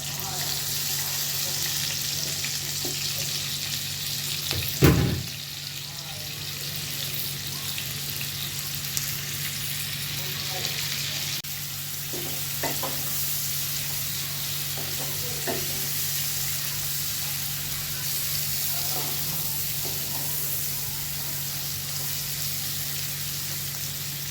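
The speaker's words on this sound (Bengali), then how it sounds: "দেখুন, আমি একটু বেরেস্তা করে নিচ্ছি পেঁয়াজগুলো দিয়ে" Sliced onions fry in white oil for biryani birista, a steady broadband sizzle running throughout with a low hum, a sharp knock near the start and occasional faint stirring scrapes.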